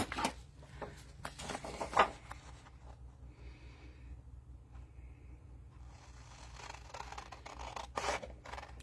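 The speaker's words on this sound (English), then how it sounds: "So I'm going to go ahead and I'm going to cut these two pieces out first." Scissors snipping through paper pieces, quiet and close, with a few sharp cuts and soft rustling between them and no talk.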